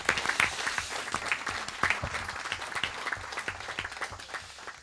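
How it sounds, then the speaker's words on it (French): An audience at a town council meeting applauds, with steady, dense clapping from a roomful of people throughout, moderately loud and without any talk. "On peut encore les applaudir."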